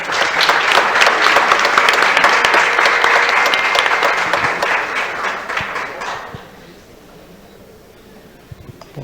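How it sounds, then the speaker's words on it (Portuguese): Audience applause at a conference, loud sustained clapping from a crowd that tapers off after about six seconds into quiet room tone. "Vamos receber com muitas palmas Ilan Cooperstein."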